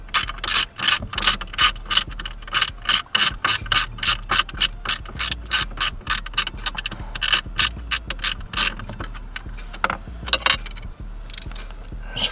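Ratchet loosening screws on a square-body Chevy steering wheel, a fast, steady clicking that stays close and distinct, with short pauses between runs of clicks.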